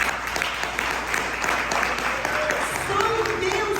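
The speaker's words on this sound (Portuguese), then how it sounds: "Você pode aplaudir o Senhor por essas verdades?" A church congregation applauds together, a broad wash of clapping held steady throughout, with a voice speaking over it and faint tonal sounds emerging near the end.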